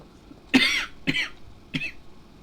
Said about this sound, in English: I do apologise if I annoy you with my coughing every once in a while.